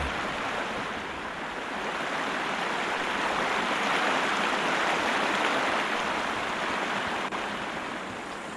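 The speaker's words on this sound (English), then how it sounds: "Man, that river is so loud." A loud river rushes steadily and close by in the video game Sherlock Holmes: Crimes & Punishments, a dense, continuous roar of churning water that swells slightly and never lets up.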